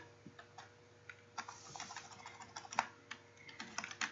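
Computer keyboard typing while C code for a leap-year program is entered, a steady run of quiet, close key clicks in irregular bursts with short pauses, no talking.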